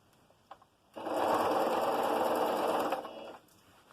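A sewing machine stitches a dress seam in one steady, fast burst of about two and a half seconds. The whirring stitching is close and clear, with a couple of soft clicks before it and a quiet room around it.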